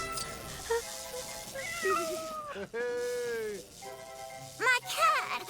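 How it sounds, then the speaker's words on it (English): A pet cat named Bailey meows repeatedly in LEGO The Incredibles, several drawn-out rising and falling cries, close and fairly clear, with one longer wail near the middle. "My cat! My sweet little Bailey!"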